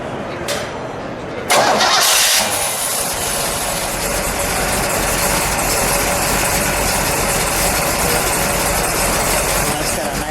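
The Ram Air 400 V8 engine of a 1967 Pontiac Firebird convertible cranks and roars to life with a loud burst, then settles into a rumbling, loping idle, close by with voices faintly present.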